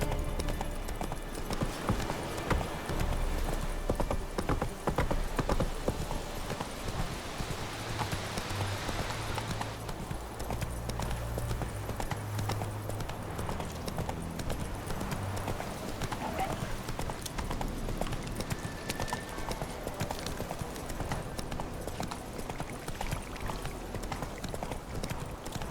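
Horse hooves clip-clop steadily throughout in The Witcher 3, a continuous rhythmic trot under game music and ambience, with a voice speaking over part of it.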